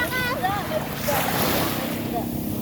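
Surf washes onto a sandy beach in Zambales during a birthday beach party, a steady roar of waves mixed with wind buffeting the microphone, while a voice talks over it.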